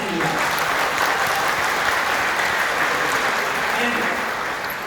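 An audience at a Rising Star event at Jaypee Palace in Agra claps loudly and continuously, a dense, even wash of applause that holds steady for several seconds.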